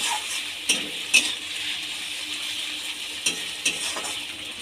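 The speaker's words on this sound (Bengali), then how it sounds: "দিয়ে মশলাটাকে ভালো করে কষিয়ে নেব।" Garlic, ginger paste and chopped tomato masala are stirred and sautéed in a pan for a homestyle bata fish curry: a steady close sizzle runs throughout, punctuated by several sharp spoon scrapes and knocks, with no talking.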